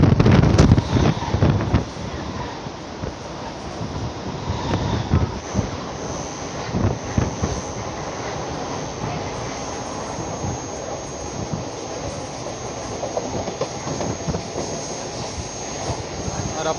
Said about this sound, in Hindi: ट्रेन को शानदार कर्व लेते हुए